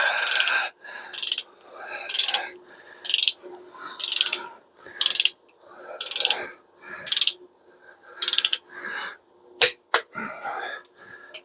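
Repeated bursts of ratcheting from a torque wrench tightening small block Chevy engine bolts, about ten short clicking runs in a steady rhythm, close and fairly loud with no talking.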